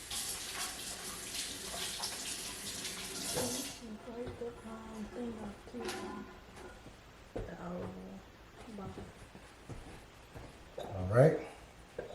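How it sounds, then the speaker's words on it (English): Kitchen tap running steadily while hands are washed during cooking prep: a soft, broad rushing hiss for a few seconds, then the water stops and quieter kitchen handling sounds and faint background noise follow. "so I'm gonna wash my hands real quick."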